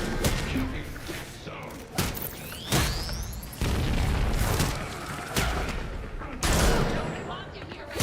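Gunfire in the Gotham Knights video game: repeated loud shots and booming impacts at irregular intervals, bursts close together, with someone talking over the action.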